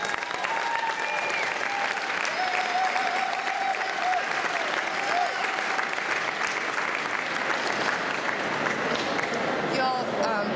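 A large outdoor crowd at a 2011 anti-fracking rally in Pennsylvania claps loudly and continuously, a thick roar of hands mixed with scattered cheers and voices that never lets up.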